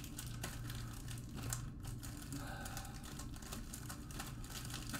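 Bowman Chrome trading card packs are shuffled by hand, giving a steady, close foil crinkling and rustling that carries on for the whole stretch without talk.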